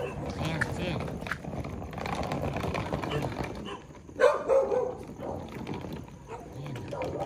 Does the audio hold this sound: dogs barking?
yes